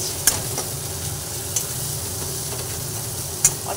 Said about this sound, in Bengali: ভালোভাবে নাড়াচাড়া করে নিচ্ছি।